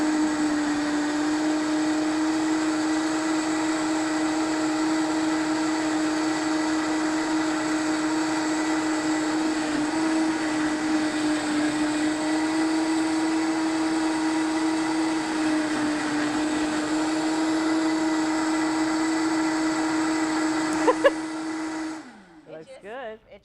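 Vitamix blender running a smoothie with greens, a loud steady motor whine held for about twenty seconds, close by, before it cuts off and winds down at the end.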